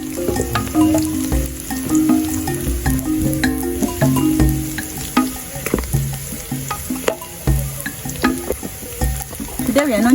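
Onions fry in a pot over an outdoor charcoal stove, with a loud close sizzle mixed with frequent stirring clatter, knocks and scrapes of a utensil against the pot.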